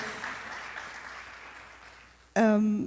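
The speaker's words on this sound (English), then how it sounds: "Please give them round of applause because they came on a Tuesday morning, and give yourself also." Audience applause for panelists at a justice conference, a soft, diffuse clapping that slowly fades before a voice cuts in loudly at the end.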